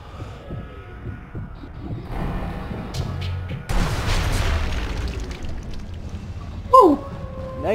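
An explosion in the Sniper Elite V2 video game, a sudden low boom midway that fades into a rumbling tail under a throbbing game soundtrack, followed by a short bright effect sound.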